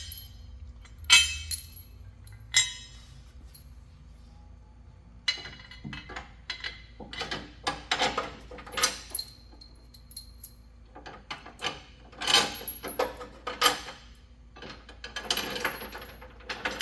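Long half-inch steel bolts clink and rattle as they are fed into holes in a Jeep XJ/MJ frame rail for a winch bumper, with scattered close metallic taps and jangles between quiet gaps.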